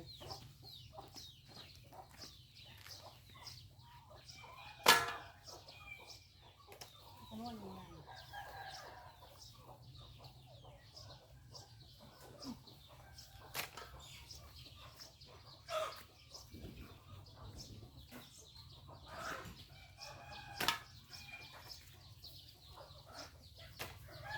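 Chickens cluck intermittently in a farmyard while a rooster crows a few times, each crow standing out clearly, with people's voices faintly in the background.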